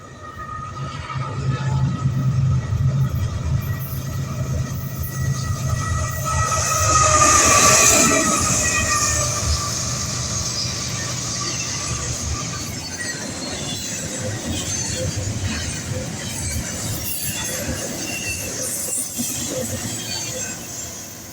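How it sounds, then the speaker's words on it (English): An eastbound Norfolk Southern domestic intermodal train led by two back-to-back GE Evolution Series (GEVO) locomotives passes steadily, rumbling continuously and swelling to its loudest at the midpoint before easing off. "He only caught one train on this day, which was an eastbound Norfolk Southern domestic intermodal with a back-to-back GEVO duo."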